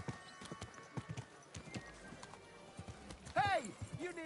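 Horse hooves clip-clop in Kingdom Come: Deliverance 2, a steady rhythmic series of hoofbeats close by, with a horse's brief whinny near the end and a voice talking over it.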